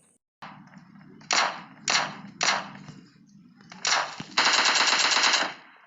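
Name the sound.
gunfire at close range in the video game PUBG Lite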